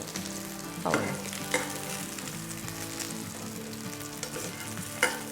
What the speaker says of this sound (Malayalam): നമ്മൾ ഒരുപാട് എണ്ണ എടുത്തില്ല, കുറച്ച് എണ്ണയിലാണ് നമ്മൾ വറുത്തെടുത്തത്